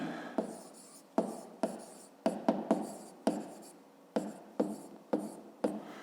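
Pencil scratching on paper at a desk, written out as a school maths exercise: about a dozen short strokes, each with a sharp onset and a brief fade, in a quick uneven rhythm, close and clear with no voice.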